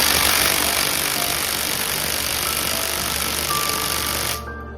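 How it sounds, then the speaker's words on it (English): An impact wrench drives a crankshaft bolt on a Bajaj NS200 motorcycle engine, a loud continuous rattling hammer that runs close and steady for over four seconds, then cuts off abruptly, leaving a quiet hum. "I'm using an impact wrench for making the work easier"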